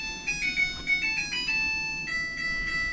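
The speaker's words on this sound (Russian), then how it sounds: "И машинка говорит, что она постирала все." A washing machine plays a short electronic end-of-cycle jingle of clear, beeping tones, a simple tune of several notes heard up close in a quiet room.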